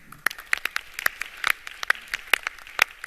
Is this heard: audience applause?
yes